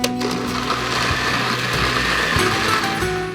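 A blender runs loud and steady, whirring as it purees Hatch chiles with garlic, salt, cumin and water, its motor tone shifting slightly as the mix churns, with no talking over it.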